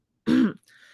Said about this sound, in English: they sound like they're constantly clearing their throat